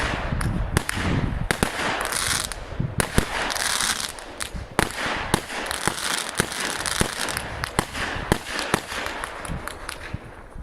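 New Year's fireworks explode outdoors in a dense, continuous barrage of loud crackling bursts and sharp bangs, with scattered heavier booms standing out over the steady rattle.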